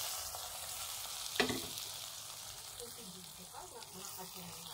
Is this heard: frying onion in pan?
yes